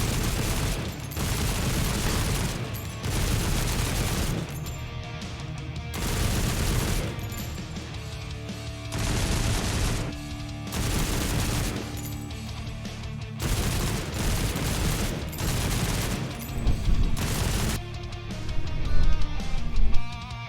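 Sustained bursts of rapid machine gun fire in the game WWH, loud and close, with short pauses between volleys and booming impacts underneath.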